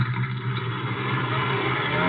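A car drives off as a sound effect in a 1950s NBC radio drama, its engine revving and running steadily and fairly loud for about two seconds, with no voices.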